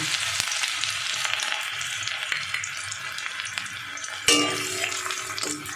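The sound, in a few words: ginger frying in a pan for egg tadka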